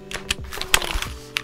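Keys clack on a Keychron C3 Pro mechanical keyboard with unlubed switches, a handful of separate presses spread unevenly over a second and a half, close and moderately loud.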